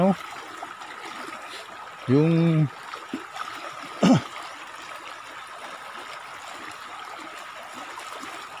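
Constant rushing of a flowing river fills the background, with a couple of short bursts of a voice speaking over it.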